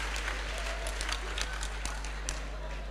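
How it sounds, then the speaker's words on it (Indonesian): Congregation applause at a church service in Indonesia: faint, steady clapping spread across a large room, with occasional sharper claps over a constant low hum. "Kita berikan tepuk tangan yang meriah bagi Tuhan kita."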